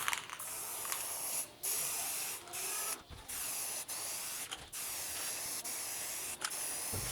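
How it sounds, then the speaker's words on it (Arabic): A can of ordinary black spray paint hisses in long continuous bursts with brief pauses between them, used to decorate a wall in a modern 3D pattern made with adhesive tape, close and steady with no talking. "سبراي اسود اهو، سبراي عادي"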